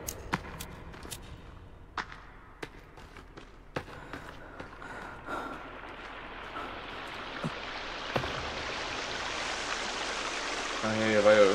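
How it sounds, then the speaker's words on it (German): Loud flowing water in The Forest video game rises steadily into a broad rushing roar, with scattered sharp clicks and taps early on and a brief tonal blip near the end. "hier ist ja das Wasser, was so laut war."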